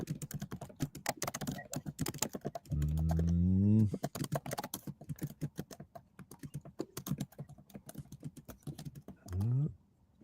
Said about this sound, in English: I don't know what Justin's typing.